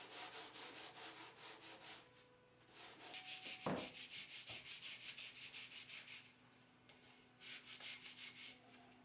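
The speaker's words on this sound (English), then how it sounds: "Now a bit of rough sanding to number 2's outer surface and number 3's inner surface." Rhythmic back-and-forth rasping of rough sanding on laminated wood lamp parts, quiet and close, with a brief knock and short pauses between strokes.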